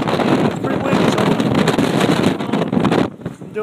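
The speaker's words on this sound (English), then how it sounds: "It's pretty windy" Strong wind in Brooklyn during Blizzard Nemo, roaring and buffeting against the microphone in loud, dense gusts that ease off briefly near the end.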